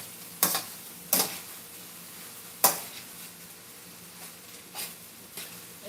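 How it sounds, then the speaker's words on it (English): A spoon stirring a quinoa stir fry with soy sauce and salt, with a few sharp clinks against the pan spaced irregularly over a quiet background. "I'm just gonna stir that real good"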